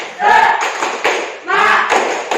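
A class claps a spirit-clap cheer in two rhythmic bursts of loud, close hand claps, mixed with shouting voices and a short pause between the bursts.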